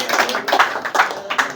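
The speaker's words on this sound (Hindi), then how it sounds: "जोरदार ताली बजाओ हर्षिता के लिए" An audience at a children's board exam award ceremony claps for Harshita, a student receiving a prize: close, fairly loud claps in a steady rhythmic pattern, with no other sound over them.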